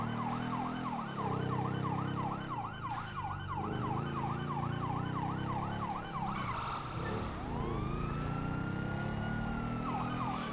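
A police motorcycle siren in GTA 5 with the LSPDFR mod, a loud fast warbling wail cycling over a revving engine. It breaks off briefly midway, then resumes with a rising whoop, with no voices.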